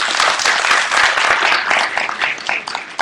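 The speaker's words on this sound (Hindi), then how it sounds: "मैं सबसे विनती करता हूँ कि तालियों से उनका धन्यवाद करें" A temple gathering bursts into close, lively applause after a spiritual discourse and devotional songs, with many hands clapping densely and steadily throughout.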